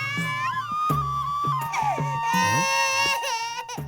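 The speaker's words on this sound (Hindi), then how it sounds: "बच्चा इतनी जोर जोर से रो रहा है" An infant wails loudly and continuously in a tense domestic scene, rising and falling cries with sobbing breaks, close and alone without talk.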